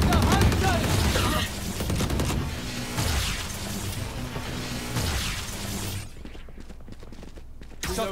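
Shotgun blasts ring out in a Valorant match, a dense burst of loud, close gunfire and impacts at the start, then continued firing and action under game music and a voice, thinning near the end.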